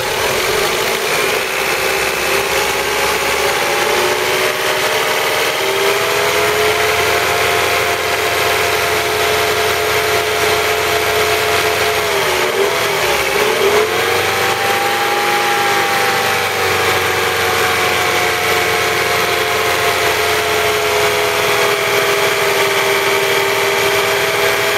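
An Opel Vectra car engine, warmed up to temperature, idles close to the microphone, a loud, steady hum with a constant drone and a brief dip in pitch partway through, with no talk.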